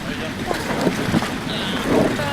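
Wind buffets the microphone over the low hum of a boat on the water, with people talking briefly throughout.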